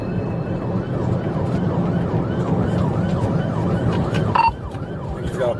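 A wailing ambulance siren sweeps up and down repeatedly over a loud rumbling engine and road noise as it speeds at 70 mph through construction zones, close and continuous.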